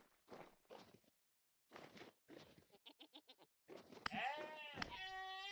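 Goat bleating in the video game Cave Story: Jenka's Nightmare, a loud, wavering cry near the end following earlier short game sounds and a rapid pulsing sequence.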